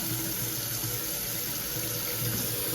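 Water runs steadily from a tap through pipes in an insulated barn kept heated against freezing, a constant close rushing hiss with a low hum underneath and no voices.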